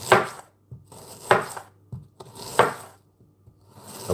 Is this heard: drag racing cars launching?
no